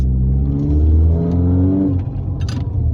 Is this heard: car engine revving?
yes